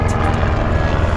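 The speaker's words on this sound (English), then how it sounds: "Got a rescue helicopter coming through town." A rescue helicopter flies over a Himalayan mountain town, its rotor and engine making a loud, steady roar that fills the air close by, with no talking.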